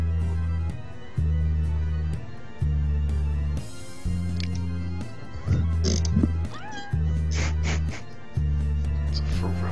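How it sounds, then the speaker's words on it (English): A cat gives a series of meows over a regular, rhythmic low background pulse, fairly loud and close, with no clear speech. "It's a ferocious cat beast"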